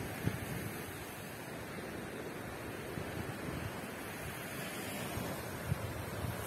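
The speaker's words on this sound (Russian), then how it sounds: "Шум моря." Sea waves wash steadily onto the Crimean shore at sunset, a continuous broadband surf roar mixed with wind noise on the microphone, with no voices.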